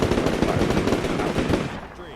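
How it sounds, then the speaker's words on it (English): Rapid machine-gun bursts fire in the Combat Mission Shock Force 2 war game during an assault on an insurgent base, loud and continuous before fading toward the end. "I want to keep firing on that position"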